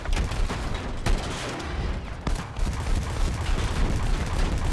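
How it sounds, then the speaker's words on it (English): Rapid cannon fire from an infantry fighting vehicle in Battlefield 6, a sustained burst of loud, closely spaced booming shots with sharper cracks standing out amid continuous battlefield rumble. "I've got to lead with my primary cannon for now"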